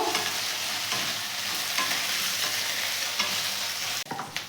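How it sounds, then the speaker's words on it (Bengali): Ginger and garlic paste sizzles loudly in a pan while being stirred, a dense continuous frying hiss with scraping, up close, dropping away briefly near the end. "আদা রসুনের কাঁচা গন্ধটা যাওয়া পর্যন্ত এটাকে খুব ভালো করে কষবো"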